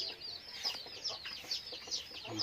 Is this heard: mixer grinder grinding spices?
no